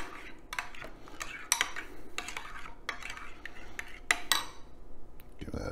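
Spoon stirring a thick sweet chili sauce mixture in a bowl, with repeated clinks and scrapes in an irregular rhythm, close and fairly quiet.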